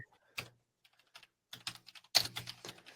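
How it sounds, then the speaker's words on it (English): Bursts of typing on a computer keyboard, irregular clusters of clicks and key taps, close and fairly quiet, with short pauses between runs and no talking. "I'm typing up NHL teams in alphabetical order"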